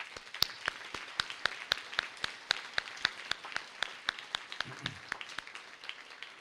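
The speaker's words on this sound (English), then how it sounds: "So I want the students, please, and all of us to give yourselves a round of applause." Graduates and guests at the USF Judy Genshaft Honors College spring graduation celebration clapping, heard as a thin, steady run of distinct single claps at a quick regular pace, fairly faint and close, with a brief low rumble near the end.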